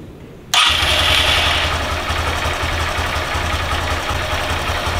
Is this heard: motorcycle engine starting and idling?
yes